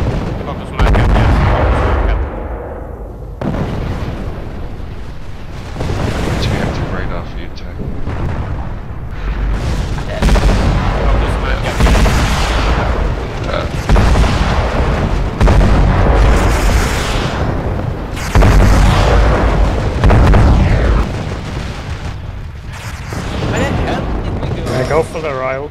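Loud, sustained weapons fire and heavy explosions from battling mechs in MechWarrior Living Legends, with booming blasts and bursts of gunfire layered almost continuously, while players shout to each other over the noise.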